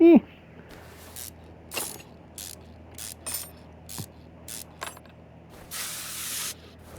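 Spray can hissing onto engine parts in a car mechanic simulation game, several short sharp bursts spread across the stretch with one longer spray near the end, amid quiet ratchet clicks and tool sounds, with someone talking.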